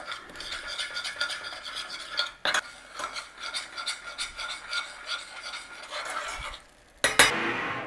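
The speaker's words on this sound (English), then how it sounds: "Butter in, sugar in. And we need to be melting that sugar in there." Sugar melting in butter being stirred in a pan, a continuous rasping scrape of the spoon in quick strokes, close up, with a brief pause and a sharper clatter near the end.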